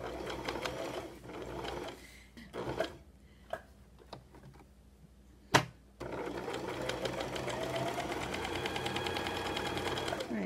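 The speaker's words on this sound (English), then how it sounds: "you're just zigzagging the very edge of the embellishment for the applique so it catches all the loose threads" A sewing machine zigzag-stitches the appliqué edge on a wool mitten made from a thrift-store sweater, running in rapid bursts, pausing with a few clicks and taps, then stitching again in a steady, continuous rattle.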